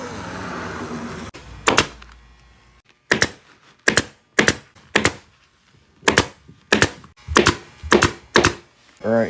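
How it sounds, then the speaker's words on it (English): Staple gun fastening a fabric strip onto a bulky curved pontoon boat seat back during upholstery restoration: a string of about ten sharp, loud mechanical snaps in an irregular rhythm with short quiet gaps between. "I'll need to cut a strip to staple on."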